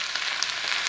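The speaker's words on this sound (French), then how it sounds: "je vais mettre un peu de jus de cuisson de viande là" Meat cooking juice poured over vegetables sizzling in a pan for yellow rice with meat, giving a steady, close hiss of frying that runs unbroken and fairly loud.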